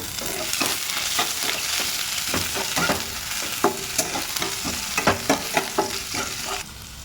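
Onions fry in mustard oil with dried red chillies and whole cumin in a pan, a steady sizzle broken by repeated sharp scraping stirs that grow more frequent toward the end.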